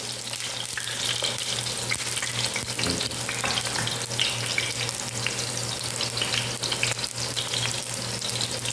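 Eggplant fries in a pan with a steady, dense sizzle and crackle, close and continuous, alone without any voices.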